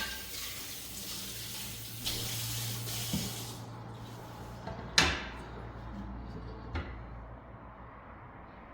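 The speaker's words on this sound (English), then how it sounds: "Rinse this off." Food rinsed under a running kitchen tap, a steady faint stream of water with a few knocks and clatters in the sink, ending as the flow is shut off.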